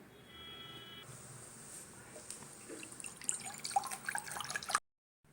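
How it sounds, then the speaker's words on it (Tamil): Cold water from the fridge is poured over cut potatoes in a kitchen, making a trickling, dripping splash that builds in the last seconds and then stops abruptly. "இதை நம்ம கோல்டாக தண்ணி ஃப்ரிட்ஜில் வச்சுருக்கிற தண்ணி எடுத்து அதில் சேர்த்து விடணும்."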